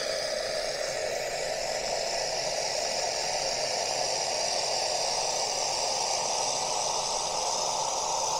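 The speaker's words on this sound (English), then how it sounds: "It's a very noisy tap," A noisy kitchen tap runs continuously, a steady close rush of water with a hissing, even texture throughout and no breaks.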